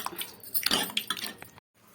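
Tomato dal with drumstick leaves stirred in a pot, a short burst of close, wet squelching and scraping against the metal, then a sudden stop.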